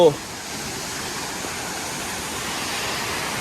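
Haew Narok waterfall in Khao Yai National Park, Thailand, heard as a steady, broad rushing roar of falling water that fills the clip, with a brief close sound at the very start.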